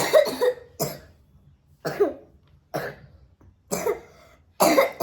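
A woman coughs in a run of about six separate dry bursts spread evenly, close and fairly loud, with quiet gaps between them and no talking.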